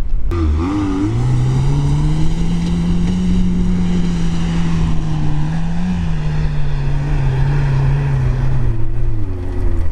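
A 4x4 off-road vehicle climbs a sand slope, its engine revving hard and holding a steady high-rpm roar for the whole stretch, loud and close, with pitch rising slightly and then wavering near the end.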